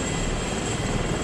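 Helicopter flying in the military video game Arma 3, a steady close rotor and engine drone filling the whole short stretch.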